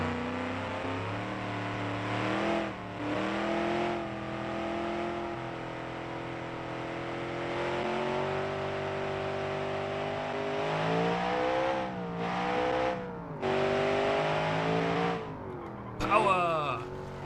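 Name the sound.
car engine accelerating in BeamNG video game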